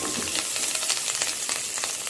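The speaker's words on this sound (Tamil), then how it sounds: "நல்லா வதங்கட்டும் எண்ணெயில்" Green chillies and chopped onions sizzle in hot oil for a spicy chicken curry, a dense, even crackle with small bursts, close and steady with no voices.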